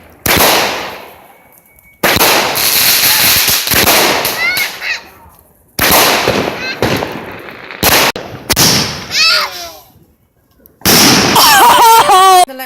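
New Year fireworks burst overhead in a rapid string of loud booms and crackles. Whistling rockets streak between the explosions, and people shout and talk close by.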